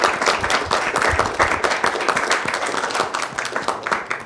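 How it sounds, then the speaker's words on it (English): An audience at the A-Team Challenge finals, a school academic competition, breaks into loud, dense applause. Steady clapping fills the room without a break and no one speaks. "Give the school district of Lee County a round of applause."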